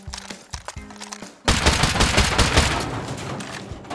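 Sudden heavy burst of automatic gunfire in a survival video game, loud and continuous after a few quieter knocks, with no talk over it.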